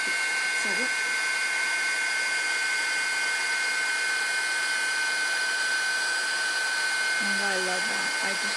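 A heat tool blows hard and steadily while drying an artist trading card, a loud continuous whine with a high tonal hum lasting the whole time, and a voice speaks briefly over it.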